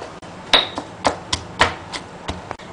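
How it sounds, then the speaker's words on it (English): A knife slices ginger thinly on a board for chilli pickle, a series of sharp close chopping taps in an uneven rhythm, about eight cuts, heard alone. "And now cut thin slices of the ginger."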